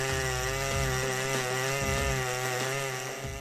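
Big gas chainsaws, a 3120 and a 181/188, cut through dead oak logs with a loud, continuous engine whine that dips and strains slightly as the chain bites the wood.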